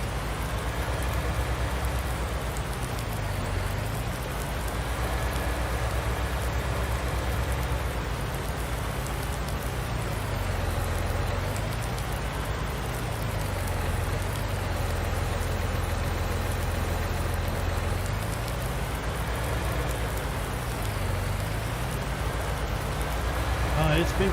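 Steady rain in Farming Simulator 19 on a farm, a constant even patter under the droning hum of an idling farm vehicle engine, continuing unbroken throughout.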